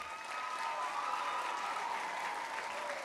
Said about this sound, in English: Give our president and CEO another round of applause